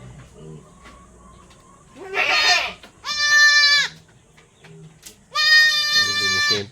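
A mother goat and her newborn kid bleat loudly in a bamboo pen, three long wavering cries a few seconds apart, with quiet rustling and faint sounds between them.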